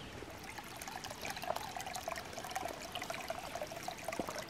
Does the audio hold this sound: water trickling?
yes